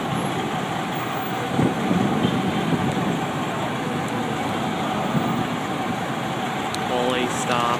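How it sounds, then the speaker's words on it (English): A light rail train in Baltimore approaches and rumbles steadily nearby, a continuous broad mechanical roar with faint higher tones near the end. "MTA train coming."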